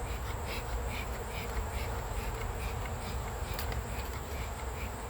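Honey bees buzzing at an open beehive during honey pulling, a dense continuous drone that is loud and close throughout with no talking.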